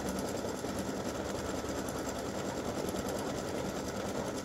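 An embroidery machine stitching a free-standing lace breast cancer awareness ribbon gives a continuous, even, rapid mechanical whir and needle chatter, close and steady throughout with no talking.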